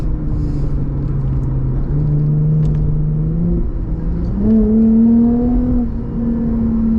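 A 2008 Lexus IS250 with its V6 revving hard and accelerating, a loud steady engine drone climbing in pitch, dipping briefly at a shift, then pulling higher again, with no talking.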